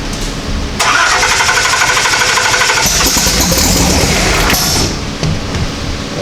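An engine cranks and catches, then runs loud and steady at a fast idle with some rising revs for several seconds before dropping off near the end.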